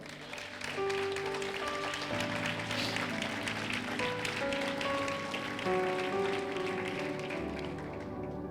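Steady applause from a crowd fills the whole stretch, with sustained music tones playing underneath.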